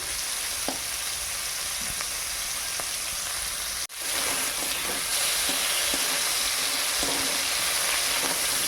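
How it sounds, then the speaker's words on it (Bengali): Shrimp frying in hot oil for an okra, potato and shrimp curry gives a steady, close, dense sizzle that cuts out for a moment and then carries on evenly. "তেলটা গরম হতে ওই মাছগুলো দিয়েছি, চিংড়ি মাছগুলো ভেজে নেই।"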